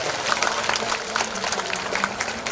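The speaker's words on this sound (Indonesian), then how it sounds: "Tepuk tangan untuk Kabupaten Kendal" Applause from a crowd at a public religious gathering in Kendal, a steady even patter of clapping that fills the whole stretch at moderate loudness.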